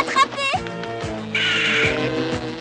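A cartoon crow caws loudly in a few harsh, nasal calls near the start, followed by a background cartoon music score with a sustained bright tone in the middle.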